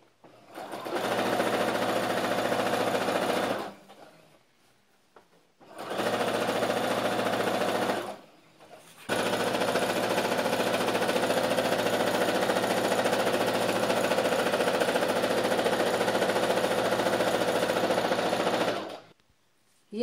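A sewing machine stitches salwar pieces in three runs: a loud steady whirring burst, a second shorter burst after a pause, then a long continuous run of about ten seconds, with near-silent gaps between them.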